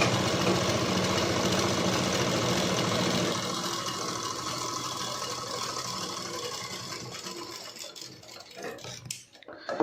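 A sewing machine stitches thin fabric with a fast, steady mechanical clatter, loud and close for a few seconds, then slowing and thinning out toward the end with faint handling noises.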